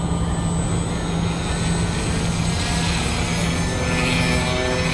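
An electric ElectriFly VFO EP ARF radio-controlled plane on a 3-cell battery drawing about 8 amps flies close by, its motor and propeller giving a loud, steady drone with no talking.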